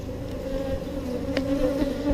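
Honeybees swarm and buzz around a beekeeper working an open hive in Texas, a dense, steady drone close by with a few louder passes of single bees, no voices.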